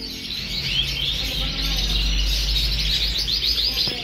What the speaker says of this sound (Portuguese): outro casal de vermelho mosaico,